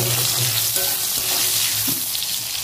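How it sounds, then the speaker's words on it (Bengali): Bori lentil dumplings fry in hot oil with salt in a heated kadai, giving a continuous, fairly loud crackling sizzle with a faint hum underneath, close up and without speech. "বড়িগুলো নাড়ি করে ভেজে নেবো"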